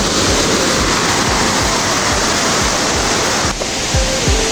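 Purandhara waterfall in Dang roars in a loud, continuous wash of falling water, dense and close, holding steady with a brief dip in intensity near the end and no speech.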